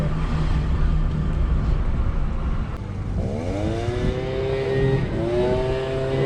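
Electric conversion of a Fiat 126p Maluch on a test drive, with a steady road and motor rumble, then a rising electric whine that climbs in pitch twice as the little car pulls forward.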